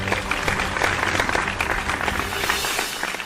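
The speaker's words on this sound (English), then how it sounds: "Please join me in giving them a huge round of applause." Audience applause for an awardee at India's Great Mid-size Workplaces 2020 awards ceremony: steady, dense clapping from a sizeable crowd that holds at an even level throughout.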